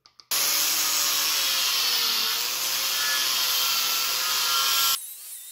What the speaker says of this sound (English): It definitely was cutting the PVC, but it was melting the blade.